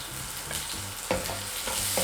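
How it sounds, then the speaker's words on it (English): Curry leaves, chopped green chilies and cashew nuts sautéing in a pan for rava idli, a steady close sizzle broken by several short stirring scrapes and clinks, no talk. "Saute this very nicely."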